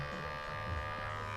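Electric hair clippers cutting dry hair give a quiet, steady motor buzz that holds an even tone for the whole short moment.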